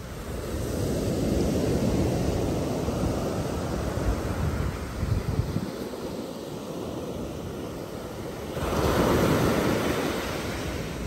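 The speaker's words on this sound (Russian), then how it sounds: "Берег моря, красивущее море" Waves wash onto the shore of a clear turquoise sea at Skalea, a loud, continuous roar of surf that swells and briefly eases before surging again, with wind buffeting the microphone and no speech.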